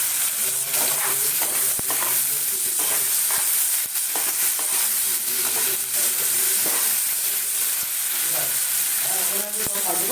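Tomato frying with onion and garam masala in a pan sizzles loudly and continuously, with stirring clatter and a few sharp utensil taps, while a voice murmurs faintly underneath.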